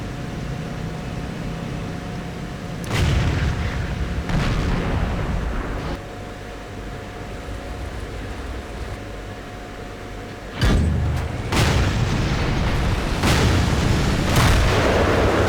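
Tank cannon shots in a tank battle video game boom out several times over a low rumbling game soundscape, with heavy blasts near the start and a quicker cluster of loud shots toward the end.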